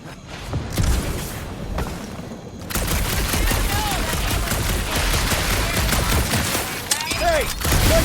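Rapid gunfire rattles through a dark alien area in the Guardians of the Galaxy video game, dense bursts of shots with booms and mechanical clanks, loud and continuous, with character voices talking over the fighting.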